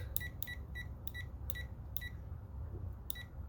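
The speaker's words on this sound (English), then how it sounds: "And then when it gets up to near 95, it's gonna beep." Quiet electronic beeps from a tire inflator reaching its preset pressure while filling the spare tire of a 2021 Honda Civic Type R, about seven short chirps in an irregular series over low background hum.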